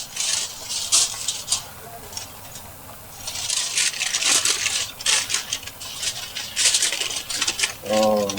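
Large sheet of aluminum foil crinkled and handled while wrapping smoked pork butt, bursts of sharp crackling rustles coming and going at close range.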